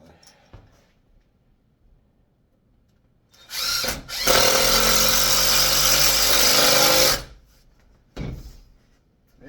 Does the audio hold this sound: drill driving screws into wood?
yes